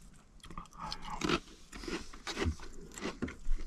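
Close, quiet crunching bites and chewing of a pickle outdoors at a truck campsite, a few crisp crunches followed by wet mastication sounds, with no talking.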